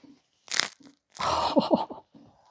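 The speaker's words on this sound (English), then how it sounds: "Can y'all hear that crunch?" Crusty homemade bread crackles in a kitchen as it is pressed and cut, two loud close crunching bursts with brittle crackles, separated by near silence.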